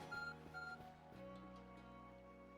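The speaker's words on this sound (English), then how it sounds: "Your phone is beeping." Phone in the Pokemon Legends: Arceus video game beeping, a pair of short repeated electronic tones near the start of the clip over steady in-game music.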